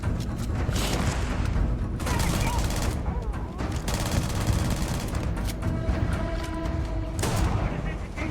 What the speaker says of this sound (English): Yes, shotgun in space.